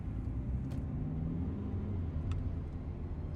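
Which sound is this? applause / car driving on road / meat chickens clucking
car driving on road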